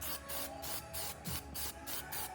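Short bursts of Plasti Dip aerosol coat a 2020 Yamaha R1 front fender, even pulses of hissing spray in a quick rhythm with brief gaps, heard close by.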